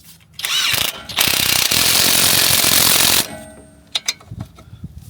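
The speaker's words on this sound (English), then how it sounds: "So we'll nip up the bolts and the nuts on the" An impact wrench tightens hub bolts and nuts on a Vauxhall Corsa, loud rattling hammering bursts lasting about two seconds close up, followed by scattered clicks and clanks of tools.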